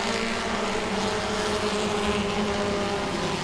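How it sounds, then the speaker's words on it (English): Super Trucks race at Langley Speedway, with a steady, continuous engine roar from trucks running around the oval, loud and sustained throughout without any voices. "Tommy Nixon looked like his truck is coming back to life."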